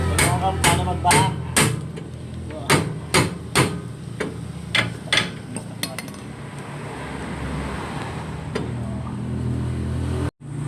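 Repeated metal hammer blows on a stuck brake caliper of a year-old stock electric trike, a dozen sharp ringing strikes in uneven bursts, loud and close, then quieter clinks and a final bang.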